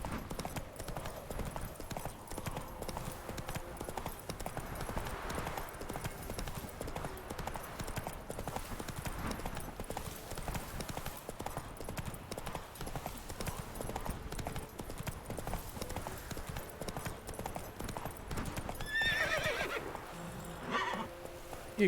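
Roach, the horse in The Witcher 3, gallops across open country with rapid, continuous hoofbeats, a clear neigh near the end, and light speech now and then over the running.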